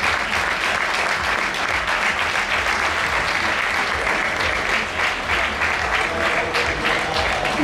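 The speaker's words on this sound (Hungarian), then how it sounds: "nagyon nagy tapsot élünk Leventének." Loud, sustained applause from a sports-show audience at a fitness parade competition as contestant Okos Levente is called on stage; thick, even clapping that holds at full strength start to finish.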